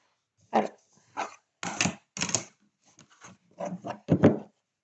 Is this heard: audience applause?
no